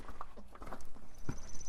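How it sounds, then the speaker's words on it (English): Horses walking by a barn where brambles are being burned, hooves clip-clopping in a loose, uneven rhythm at moderate distance, quiet against outdoor background noise. "Hello, horses."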